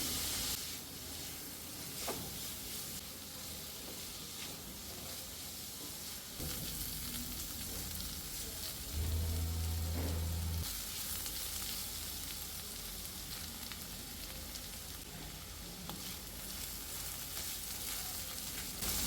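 Cooked ridge gourd for a dried-shrimp thoran sizzles steadily in a hot pan, with a continuous hissing fry that surges louder for a moment midway, then settles back to a steady sizzle. No one speaks.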